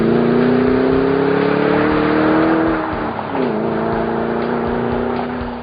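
A 2010 Ford Mustang's 4.6-litre V8 revs loud and close, a deep steady drone that dips in pitch midway, then settles and holds again.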